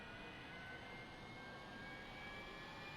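A Saab Sk 60 jet engine runs in a flight simulator, a steady, even roar with a faint high whine on top, held at a constant level throughout with no other sounds.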